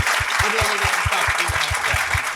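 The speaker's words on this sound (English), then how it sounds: "please give a huge round of applause" A live podcast audience in Melbourne applauds a guest with dense, steady clapping, while a regular low thumping beat pulses underneath for the whole stretch.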